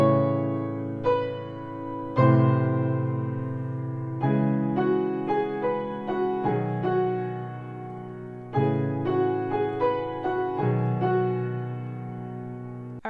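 Piano playing the intro chords of a song, a series of sustained chords struck in a steady slow rhythm, clear and close with no voice.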